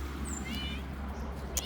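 A cat gives a couple of brief, thin meows over a low steady background hum, fairly faint and close.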